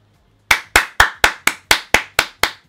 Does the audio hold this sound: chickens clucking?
no